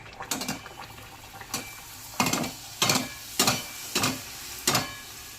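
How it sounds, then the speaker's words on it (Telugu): Puri frying in hot oil, a steady sizzle under a run of evenly spaced scraping clinks of a metal utensil against the pan. "పూరీ వేసుకుందామండి"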